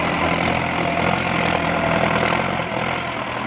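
A powerful 750 HP tractor engine roars steadily under load while climbing a short canal embankment, a dense, continuous drone that stays loud and close throughout.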